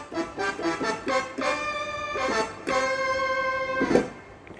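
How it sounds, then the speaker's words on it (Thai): Bass patch played on a Korg PA600 arranger keyboard, a short run of plucky, sustained bass notes changing pitch several times, close and clear with no talking. "ต่อมาเป็นบาส"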